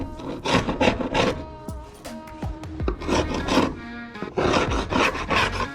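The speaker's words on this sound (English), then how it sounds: "It took a good 20 minutes to remove all the silicone and excess gunk off where the actual window sits." Old silicone being scraped off a fiberglass window frame, where the new window seats: repeated rasping strokes come close and fairly loud, in uneven bursts with short pauses between them.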